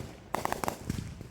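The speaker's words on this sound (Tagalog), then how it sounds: "Nakikinood kami ng fireworks sa kapitbahay ng aking mga in-laws. Ang daming fireworks." Fireworks set off by neighbours for a Fourth of July Independence Day celebration in the US, a rapid cluster of sharp cracks and pops followed by a few softer, lower booms, heard at moderate distance.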